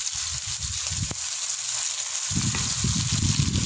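Fish siomay ingredients sauté in a hot pan on an electric stove, giving a steady hiss and sizzle with soft low bubbling and clatter underneath, close and moderately loud.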